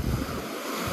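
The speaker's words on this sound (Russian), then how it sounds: "Видите, вымывает гальку." Sea waves wash over a pebble beach at Sudak in Crimea, a brief, loud rush of surf mixed with wind buffeting, with no voices.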